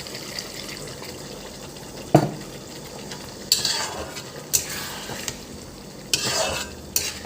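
Paneer curry being stirred in a pan with a spoon after water is added, giving soft scraping strokes and bursts of wet sizzling that come in irregular pulses close by, with no talking.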